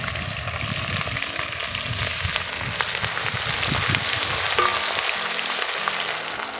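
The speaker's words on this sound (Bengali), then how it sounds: "এবার দিয়ে দেবো আগের থেকে থেতো করে রাখা পেঁয়াজ" Crushed onion drops into hot tempering oil for a spicy fish kalia and fries with a loud, continuous crackling sizzle. Scattered pops and faint stirring clatter run through it, and no one speaks.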